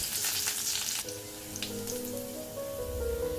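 Chopped garlic fries in hot ghee in a pan while capsicum rice is cooked. A close, steady sizzle crackles throughout, with a few light clinks and no talking.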